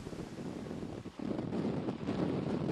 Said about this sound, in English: The wind gusts are clocking in at about 60 miles per hour here in New Orleans